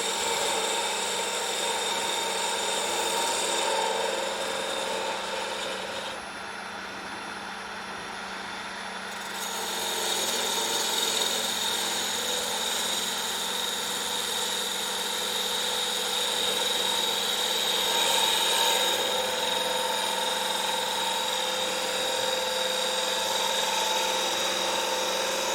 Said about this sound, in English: we're going to bring our spindle gouge in,